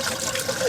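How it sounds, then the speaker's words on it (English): Water running through an engine block and heater on a Toyota Troopy, a brief hissing, trickling flow heard close and steady, with faint speech mixed in. "So we'll run water through the block,"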